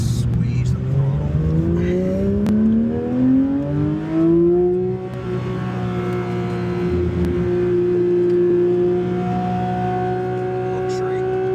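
A Porsche GT3 engine revs under throttle on a track. The pitch climbs steadily as the car accelerates, then holds at a high, loud, near whine, with an instructor talking over it from inside the car.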